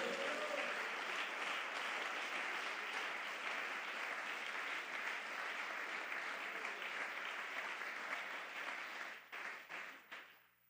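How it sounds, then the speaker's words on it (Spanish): A church congregation applauds during an evening Spanish sermon, a dense sustained roar of clapping from many people that holds steady, then thins into a few last separate claps as it fades out. "Dele un aplauso a Jesús esta noche."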